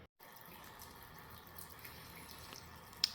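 Water trickles steadily from a small drain faucet on a disassembled Jaguar XK120 engine, a faint continuous flow with no talking.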